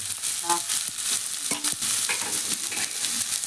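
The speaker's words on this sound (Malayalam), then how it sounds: "ഇന്നത്തെ സ്പെഷ്യൽ നമ്മൾ സമൂസ ഉള്ളി വാട്ടി" Onions sautéing in hot oil in a pan for samosa filling, a steady bright sizzle with a few clinks and scrapes of a stirring spoon, close and continuous.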